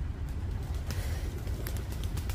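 Pigeons gathering outdoors near a young long-eared animal, with soft scattered bird sounds and brief flutters over a steady low background hum, fairly faint and without talk.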